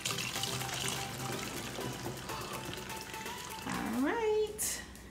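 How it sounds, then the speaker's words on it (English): Vinegar is poured slowly into a bottle for a balloon-inflating science experiment, making a steady close trickle of liquid with faint voices in the background. "So the first step is to pour the vinegar into the bottle"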